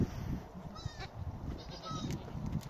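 Goats and newborn kids bleating on a farm, several thin, high calls scattered across a few seconds over a steady low rumble of movement and background noise, close to fairly near.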